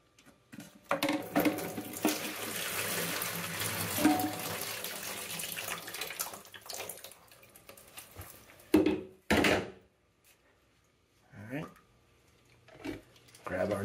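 Water runs from a disconnected toilet supply line into a small bucket during a fill-valve replacement in an apartment. A steady close pour lasts several seconds, with someone talking over it, then knocks and brief splashes follow.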